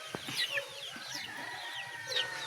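Hungry chickens and chicks in a newly built coop give soft clucks and high peeping chirps, scattered and fairly faint over low background noise.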